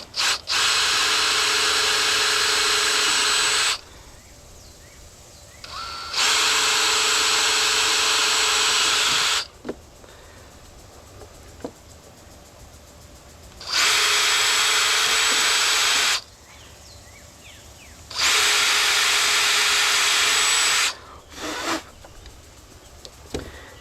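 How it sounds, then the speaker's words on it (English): A power drill boring holes into the fiberglass of a Boston Whaler boat while fitting a stern light, in four loud steady bursts of a few seconds each, separated by quiet pauses with faint handling noises. "We're just gonna drill in just enough."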